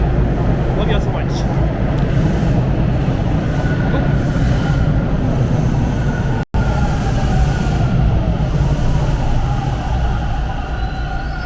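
A Toronto TTC subway train at Warden station rumbles loudly and steadily throughout, with a broad low roar and faint wheel squeal, briefly cutting out partway through before resuming.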